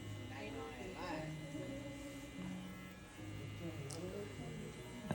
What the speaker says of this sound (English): doing the clipper over comb really just saves you guys from using the number 3 guard and the number 2 guard